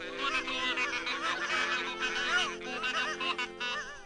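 A flock of geese honks together in a dense, overlapping chorus, loud and close, with many calls layered continuously and a faint voice underneath.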